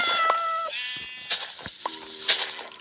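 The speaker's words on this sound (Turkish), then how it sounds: "Kedi kara kedi çıktı ya." A black cat meows a few times in a home, with short, fairly close, high-pitched calls spread across a couple of seconds.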